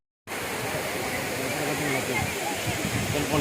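Masila waterfall rushing, a loud, steady wash of falling water that starts abruptly and continues without a break.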